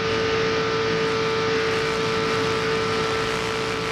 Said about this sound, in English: I think he has lost a cylinder, definitely. His car, as it goes by here, it sounds very, very weak.